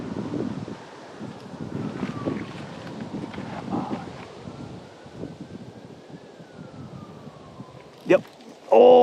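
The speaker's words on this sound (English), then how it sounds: "It is so windy." Strong wind by a lake buffets the microphone in uneven low rumbling gusts, with a voice talking over it and a louder burst of handling noise near the end.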